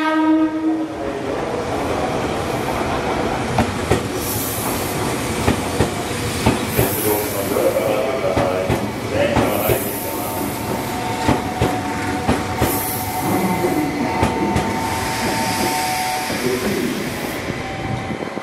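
A Meitetsu 3500 series express train rolls into Kanayama station, its steady loud rumble and clacking wheels filling the platform while several short horn blasts sound repeatedly over the noise.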